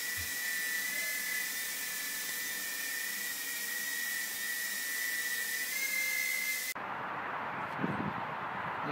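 A Furibee H801 mini drone whines with a steady high-pitched motor buzz and shifting tone, then the sound cuts to rougher, windy noise near the end.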